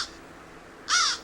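Crows caw in alarm at a rough-legged buzzard, a large winter raptor from Siberia: a faint call at the start, then one loud, harsh, close caw near the end.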